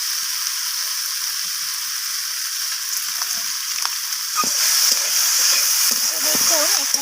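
Coriander leaves stir-fried with vegetables and spices in a pan for a rohu fish curry give a steady hiss, which grows louder and brighter halfway through as the mixture is stirred with a few scraping touches.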